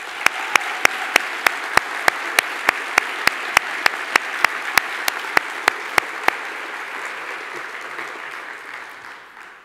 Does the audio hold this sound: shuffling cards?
no